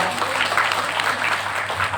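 Audience applause at a formal Thai seminar, dense continuous clapping from a crowd filling the whole moment.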